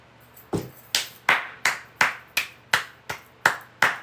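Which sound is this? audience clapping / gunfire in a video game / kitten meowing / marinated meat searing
audience clapping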